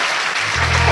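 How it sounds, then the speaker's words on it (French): Dense audience applause at a French stand-up comedy show, swelling louder over a single second with a faint voice underneath. "Et on peut l'applaudir, il est génial."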